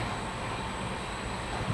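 Inside a passenger train coach near Ahmedabad, a steady low rumble and rolling hum of the moving train, continuous and fairly loud, with no talk.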